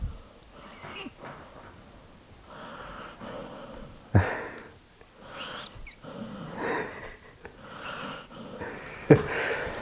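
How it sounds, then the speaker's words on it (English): An animal snores close by, with wheezy, rasping breaths in an uneven rhythm and a couple of sharper snorts. "here is Mango snoring"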